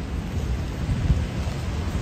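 Rain falling on a street in Midtown Manhattan, New York City, a steady dense wash of drops with a low rumbling undertone, continuous and fairly loud with no voices.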